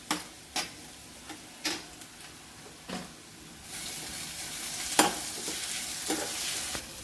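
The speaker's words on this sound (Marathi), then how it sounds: "आता आपण मिरचीचा ठेचा टाकून घ्यायचा आहे आणि त्याला पण चांगलं परतून घ्यायचं आहे." Crushed green chilli thecha sautéing in a pan, with a soft steady sizzle under repeated scraping stir strokes of a spoon against the pan, close and fairly quiet.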